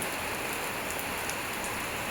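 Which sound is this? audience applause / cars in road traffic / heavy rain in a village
heavy rain in a village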